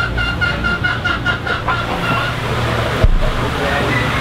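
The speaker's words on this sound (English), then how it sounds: "here comes another angry rooster" An angry rooster clucks in a rapid rhythmic series, then falls quiet, outdoors in Key West over steady traffic and ambient noise, with one sharp knock near the end.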